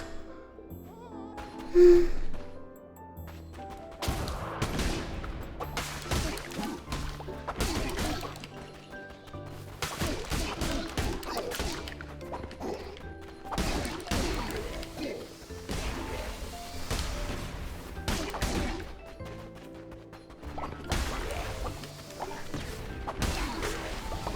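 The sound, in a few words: explosions in the video game Cult of the Lamb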